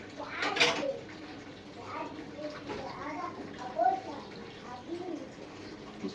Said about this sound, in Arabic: بصوا حبايبي، هننزل بقى بالميه السخنه